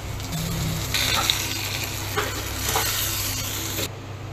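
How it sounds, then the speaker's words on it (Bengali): Whole cumin seeds sizzle in hot oil for tempering, a steady close hiss and crackle with a few brief metallic clinks, ending abruptly after about four seconds; no talk. "দিয়ে দিব জিরা, আস্ত জিরা, একটু ফোড়ন।"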